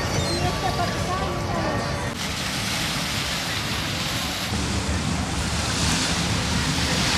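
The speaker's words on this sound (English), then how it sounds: "We're at Cabo San Luca and we're at the beach." Surf at a beach in Cabo San Lucas, Baja California, Mexico: a steady, loud wash of breaking waves with wind buffeting the microphone, with a faint voice audible beneath the roar.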